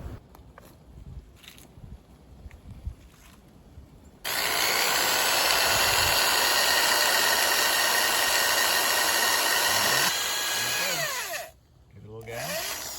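A gas-powered drill bores into a backyard maple tree, starting abruptly with a loud, steady high whine that runs for about six seconds, then dips and winds down; quieter handling noises come before it.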